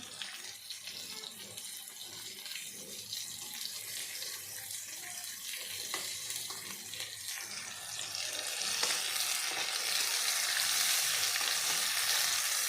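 Continuous crackling sizzle of paturi frying in hot oil, growing louder and denser toward the end, with faint background noise and no talk.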